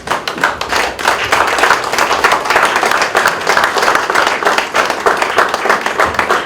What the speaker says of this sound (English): Can I humbly request that we rise and applaud our keynote speaker once again.